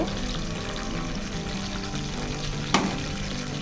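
Chopped onions with cardamom and cloves frying in hot oil, a steady close sizzle that holds for the whole stretch, with one brief clatter near the end and no speech.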